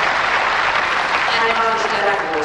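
Applause from the crowd at a women's tennis match, a steady wash of clapping lasting a couple of seconds with a commentator talking over it.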